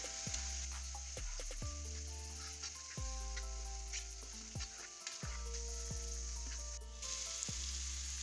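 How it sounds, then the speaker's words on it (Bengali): Spice paste of ginger-garlic paste, curry powder and chili powder sizzles steadily in a pan for salmon fish head biryani, with faint stirring scrapes. Nobody talks. "মশলাটাও ভাজা ভাজা করে যাচ্ছে"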